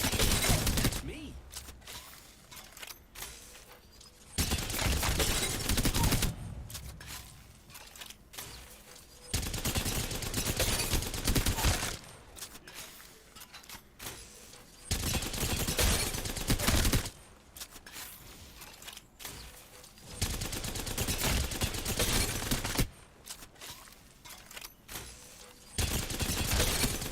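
Bursts of automatic Havoc rifle fire in Apex Legends come in long sustained volleys, loud and close, separated by short quieter gaps in a repeating on-off pattern.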